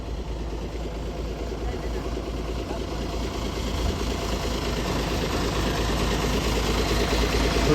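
A Maharashtra state bus idles at Kalaburagi bus stand, a steady low diesel rumble that grows slightly louder over the clip, with busy station background noise.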